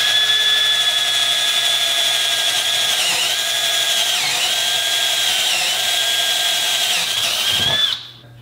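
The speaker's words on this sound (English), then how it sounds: "These are wood drill bits right here." Milwaukee M12 drill driver boring into wood with a wood drill bit on low speed, a steady loud whine with slight dips under load for about eight seconds, then cutting off abruptly.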